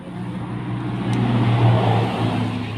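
A Suzuki Step 125 motorcycle engine with an electrical fault runs close by, a steady loud low drone that swells slightly as it revs, with no talk.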